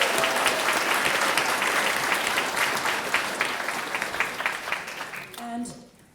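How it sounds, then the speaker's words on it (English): Audience applause at a book launch for a memoir in Corofin, County Clare: sustained, dense clapping from a full room that fades out toward the end, with a brief voice near the close. "Give him a big, big round of applause"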